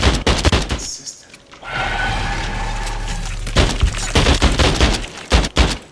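Rapid bursts of gunfire in the alien-shooter video game Earthfall: Alien Horde, loud and close, with a brief lull of low rumbling between volleys.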